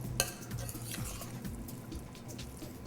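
Stirring grated parmesan cheese into a wild mushroom and edamame risotto in a pan, with a soft, steady scraping and sticky churning of the spoon through the thick rice, plus a couple of light metallic clinks, close and quiet.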